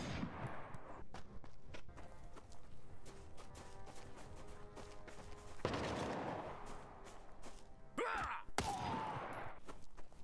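Bursts of automatic gunfire in the combat game Front, dense rapid volleys with louder clusters near the middle and end, steady battle noise throughout and no talking.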